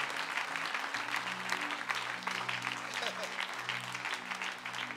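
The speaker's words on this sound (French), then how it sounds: "On peut acclamer très fort pour le Seigneur." A church audience at the JIREH 2025 conference session applauding, heard as steady, dense clapping that fills the space throughout, with a sustained musical tone and faint voices beneath.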